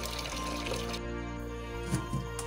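Water pours and trickles steadily as raw meat is washed at home, the rinse running on for 5–6 washes until the yellow colour is gone, with a constant hum beneath and small splashes of handling near the end.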